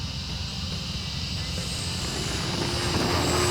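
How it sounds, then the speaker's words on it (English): E-flite Turbo Timber Evolution 1.5 m electric RC airplane in flight: a steady whine of motor and propeller, holding at a fairly constant level and rising slightly toward the end. "Oh, the Timber is just such a good flying airplane."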